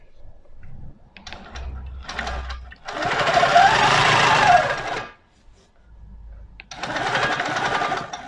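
A sewing machine stitches along the edge of a quilt in two loud, steady bursts of fast needle chatter, separated by a pause filled with soft handling knocks.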